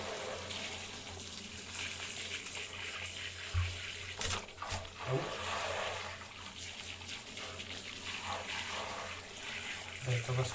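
Tap water runs steadily into a bath for washing a pet chicken, a continuous splashing gush with a brief louder splash partway through and a person talking softly over it.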